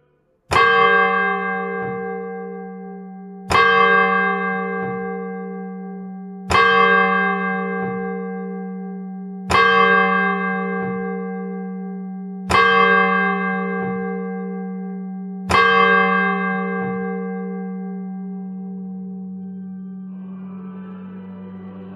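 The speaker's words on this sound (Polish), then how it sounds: "Pobijak, którego bicie mogli Państwo usłyszeć" A single church bell at the Wieprzyce church in Gorzów, clock-controlled, strikes six times at steady intervals of about three seconds, each loud clang ringing out and slowly fading, with no voices.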